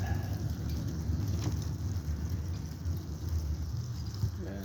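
Steady light rain patters and hisses continuously, a soft even wash with a low rumble underneath and no voices.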